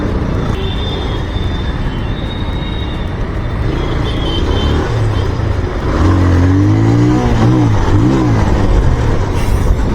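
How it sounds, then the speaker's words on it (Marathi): A loud vehicle engine roars and revs on a road, the rumble rising and wavering over steady traffic noise and wind. "बाप रे काय आवाज आहे गाडीचा"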